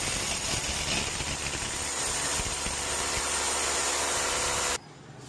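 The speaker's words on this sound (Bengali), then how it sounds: "চাঁদ বদন মেশিনটাকে চালু করছে, খুব সুন্দর মেশিন।" A workshop machine in a metal grille workshop runs with a loud, steady broadband whirring hiss close by, then cuts off abruptly near the end, leaving quiet.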